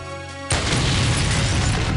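Wooden crates bursting apart in a dark-corridor video game, a sudden loud blast at half a second that leaves a dense, crackling spray of debris ringing on to the end, with steady tones before the hit.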